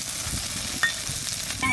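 Red Sundarbans crab brains frying in a pan with onion and green chili, a steady close sizzle with a few soft stirring scrapes and clinks, no talk.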